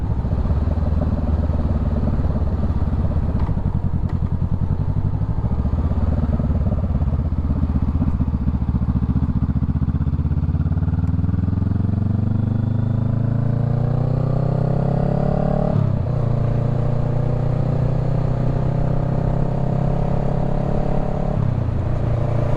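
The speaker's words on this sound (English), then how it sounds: "I just love the sound of this bike. Sounds amazing." A Honda Rebel 500 motorcycle engine runs loud and close, its low rumbling note climbing smoothly as the bike accelerates through the gears, with steady wind and road noise throughout.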